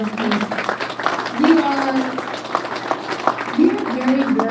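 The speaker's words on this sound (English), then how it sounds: "Dr. Mackes, let's give him another round of applause." Applause from the audience at a public gathering in Ponoka in January 2023 after a doctor's talk, with claps mixed under voices and cheering that keep going throughout.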